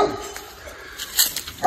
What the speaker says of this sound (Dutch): Die hond is goed waaks, die van het huis ernaast.